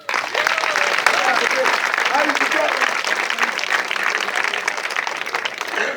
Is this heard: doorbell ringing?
no